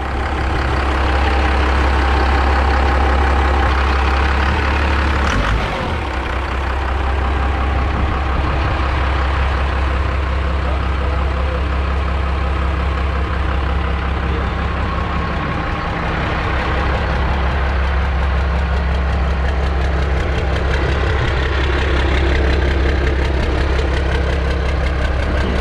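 A first-generation 12-valve Cummins diesel in a Dodge truck idles loud and close, a steady, rough, knocking rumble that holds for the whole stretch with only a slight dip in the middle.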